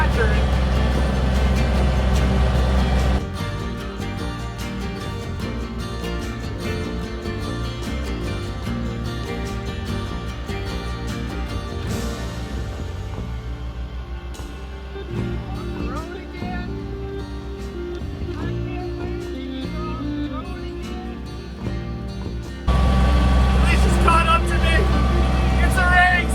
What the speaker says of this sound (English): The diesel tractor.